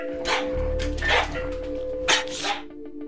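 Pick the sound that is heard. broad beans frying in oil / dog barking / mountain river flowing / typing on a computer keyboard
dog barking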